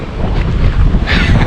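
Strong gusts of wind batter a solo camping tent at a state park, a loud, close roaring rush with no talking.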